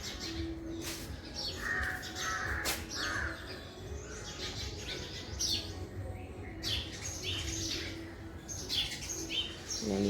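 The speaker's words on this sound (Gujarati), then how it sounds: "કાગડો પણ બોલે છે અહીંયા" A crow caws a few times at moderate distance, mixed with scattered chirping from small birds and steady outdoor background noise.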